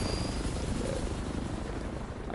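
A helicopter in the Black Ops 6 battle royale video game gives a steady, loud rotor thrum and engine roar that fills the whole stretch without a break, with no talk over it.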